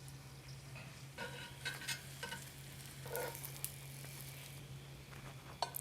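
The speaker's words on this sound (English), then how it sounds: "You want some low heat when you shallow fry the chimis." Chimichangas shallow frying open side down in a thin layer of oil over low heat, giving a soft, steady sizzle with occasional light scrapes and clicks, faint and close, no voices.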